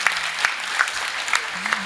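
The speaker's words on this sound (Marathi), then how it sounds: "एकदा महाराजांसाठी खरंच टाळ्या वाजवल्या पाहिजे" Audience applause at a Marathi kirtan gathering honoring the Maharaj, a short burst of hand-clapping with a few sharper claps standing out over steady crowd noise.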